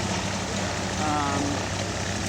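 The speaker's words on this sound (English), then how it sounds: "This is the Cessna. This is the smaller plane of the fleet pulling in here." A small Cessna propeller plane taxiing in at an airfield, a steady loud engine and propeller drone filling the scene with a faint rising whine, no talk.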